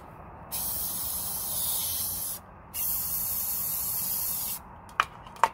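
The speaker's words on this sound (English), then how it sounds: "I'm just spraying." Blue spray paint hisses from a can onto a resin clutch purse in three sustained bursts separated by short pauses, followed by a couple of faint clicks at the end.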